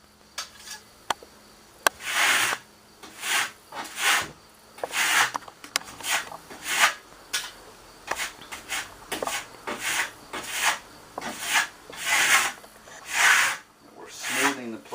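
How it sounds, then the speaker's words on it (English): A steel trowel smooths Primo Classic Marmorino lime plaster on a wall, making repeated rasping scrapes in an uneven rhythm of strokes, close and fairly loud. "We're smoothing the plaster."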